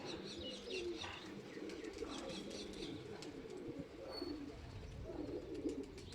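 Pigeons coo softly while flying overhead and coming down to land, with faint chirps and occasional wingbeats over a steady outdoor background.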